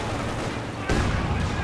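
A Werfer rocket artillery volley in Company of Heroes 2 lands as a sudden loud burst of explosive rumble cutting in after a stretch of dense battlefield noise.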